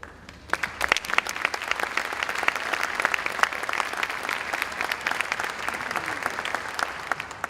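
Graduation audience breaks into loud, sustained applause with dense overlapping claps, building quickly and holding strong from start to finish.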